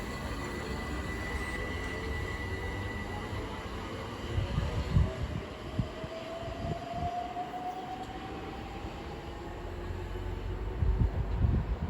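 A Class 465 electric train passes through New Cross station on the South Eastern Main Line: a sustained rumble and rolling wheel noise with a rising whine, moderately distant, with heavier clunks of wheels over joints toward the middle and end.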